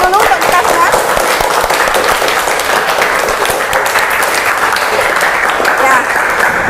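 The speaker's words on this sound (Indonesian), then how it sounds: "Oke, tepuk tangan dulu untuk kita semua." A group of participants applauds together after a prayer at an academic supervision coaching session, sustained dense clapping lasting several seconds at steady loudness.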